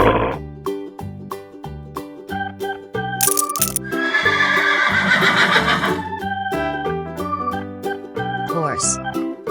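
A loud, clear horse whinny rings out in a children's farm-animal song, set against bouncy, rhythmic music.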